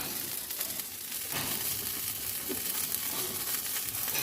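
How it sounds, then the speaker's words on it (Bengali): Eggplant slices frying in hot oil in a pan give a constant crackling sizzle, close and even, with a few soft stirring scrapes and no voices. "আর এইদিকে বেগুনটা ভাজা মনে হয়ে গেছে।"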